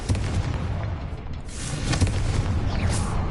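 Confringo explosion spell cast in the Hogwarts Legacy video game, heard as a series of booming blasts with bursting crackle, loud and close over continuous game noise.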